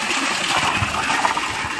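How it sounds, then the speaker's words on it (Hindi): Water gushing strongly from a hillside spring, a close, steady splashing flow with bubbly, uneven spatter and no voices. "इतना ज़्यादा पानी आ रहा है उस टाइम, इतना बारीक आ रहा था पानी और अभी पूरा हाथ भर पानी आ रहा है।"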